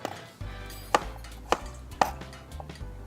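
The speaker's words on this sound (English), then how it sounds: "I'm just going to cut them in smaller bits." A knife chops pumpkin into small pieces on a board, three crisp evenly spaced cuts close up with faint thumps between them.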